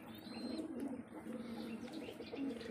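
Pigeons coo softly in a loft holding Madrasi and Giribaj birds, a continuous low murmuring chorus with a few faint chirps and wing sounds, no talk.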